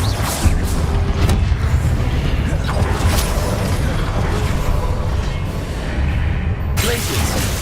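A Confringo blasting spell detonates in a Harry Potter video game, a dense, loud rumble of blasts with several sharper booming bursts and whooshes, one striking near the end.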